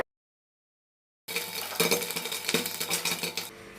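A lid closes over a pot while popcorn is made, giving a sudden loud metallic clatter and rattle after a moment of silence, followed by continued clanking and jostling of cookware at close range.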